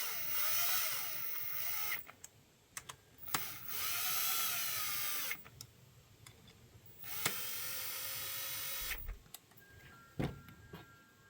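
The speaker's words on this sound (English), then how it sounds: "Drive these down a little bit with the drill" A power drill spins spark plugs down into the engine of a 2010 Toyota RAV4, whirring in several short bursts of a second or two each, separated by clicks and quiet pauses, fairly faint.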